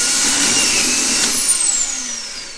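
Kreg Foreman pocket hole machine boring pocket holes in wood, a loud close motor whine that starts strong and slowly winds down as the bit slows.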